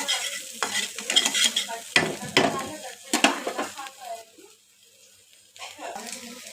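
Egg fried rice sizzles in a pan while a utensil scrapes and stirs it in bursts of clattering strokes, and someone talks over the cooking.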